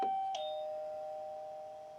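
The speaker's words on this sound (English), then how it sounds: "and then of course we have our doorbell." A small electronic toy doorbell on a Playmobil dollhouse sounds a two-tone chime, a bright ding followed by a dong that rings on and slowly fades.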